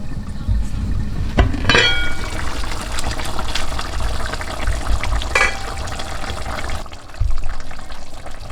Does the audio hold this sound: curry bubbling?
yes